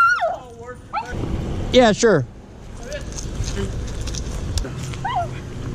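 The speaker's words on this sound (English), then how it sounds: "Oh, puppies." Puppies whimper and yip in short, high, wavering cries, close by, with a bark-like yelp among them and people talking briefly over the noise.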